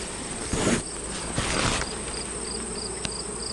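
Honeybees droning inside a hive during honey harvesting, a dense continuous buzz throughout with a few louder swells of closer bees and no talking.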